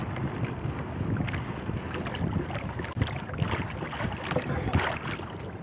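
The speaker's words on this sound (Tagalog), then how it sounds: "Malakas pa naman yung hangin" Strong wind gusts buffet the microphone on open water off Iloilo during a fishing trip, with a small paddled boat sloshing and creaking in a continuous, rough roar.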